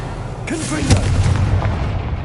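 A Confringo explosive spell cast in Hogwarts Legacy: a booming, artillery-like blast with a rumbling tail, heard alongside a voice.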